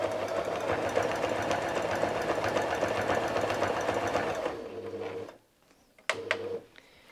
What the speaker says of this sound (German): Bei unserer Schwanzflosse möchten wir auch genau diese Linie zwischen Körper und Flosse ebenfalls wieder mit einem Zickzackstich nähen.